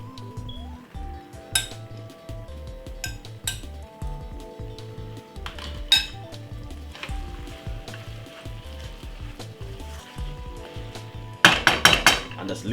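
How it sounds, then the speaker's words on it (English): Jamaican bully beef and cabbage cooking in a pot, with a soft sizzle beneath frequent clinks and scrapes of a utensil against the pot, ending in a short louder clatter. "just leave this for it to go and simmer for 10 minutes"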